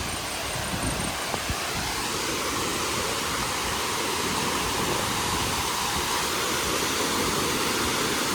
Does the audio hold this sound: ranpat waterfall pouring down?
yes